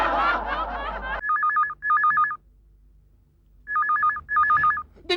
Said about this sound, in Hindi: ऐसा लग रहा है कहीं दूर टेलीफोन की घंटी बज रही है।